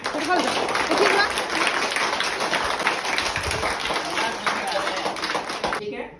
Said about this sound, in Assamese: সকলোৱে হাত তালি বজাই প্ৰধান সেৱকৰ কাৰণে